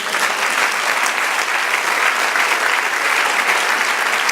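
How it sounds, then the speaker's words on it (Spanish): Congregation applauding at a church service, a dense, even wash of clapping from many hands that holds steady and loud for the whole stretch. "Denle un aplauso al Señor."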